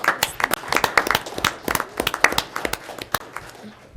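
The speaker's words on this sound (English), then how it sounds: "so a big round of applause for" Scattered hand claps from a small group at a city council meeting, uneven and somewhat sparse, thinning out toward the end.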